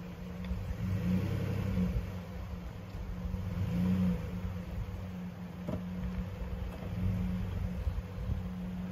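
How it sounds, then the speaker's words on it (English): A large camping vehicle maneuvers slowly to park at a group campsite, its engine rumbling steadily at low speed with small swells in revving, heard from nearby with no talking. "let's see if we at Donald can actually park this thing"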